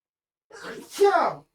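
A single person sneezes once indoors, a short voiced burst about a second long, close and fairly quiet, with nothing else around it.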